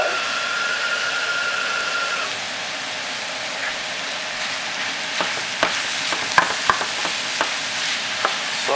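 Sausage and onions fry in a pan for spaghetti, a steady close sizzle with sharp crackles and pops breaking through toward the end.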